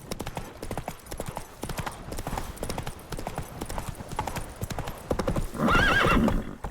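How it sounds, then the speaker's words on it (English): A horse gallops in The Witcher 3, its rapid rhythmic hoofbeats drumming close and loud throughout, ending with a sharp whinny near the end, with a voice briefly speaking over it. "Run, Roach."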